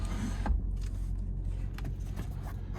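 A low, steady electric motor hum as the power sunshade of a 2020 Mercedes-AMG GT 63 slides open inside the cabin, running continuously for a few seconds with a few faint clicks and rustles over it.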